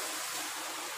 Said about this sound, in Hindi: पानी डाल के इसमें